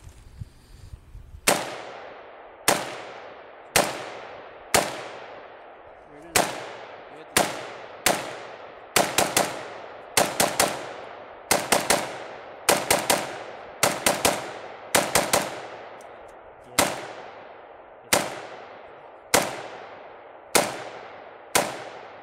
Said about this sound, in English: Bulgarian milled receiver, AK-47.